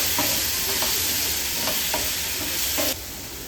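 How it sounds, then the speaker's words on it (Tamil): Ginger garlic paste fries in hot oil for a spicy pepper chicken gravy, a steady close sizzle with several soft scraping stirs of a spoon through the pan, then the hiss drops slightly near the end. "இதையும் போட்டு அந்த பச்சை வாசனை போகிற அளவுக்கு நல்லா எண்ணெயில் வதக்கிக்கலாம்"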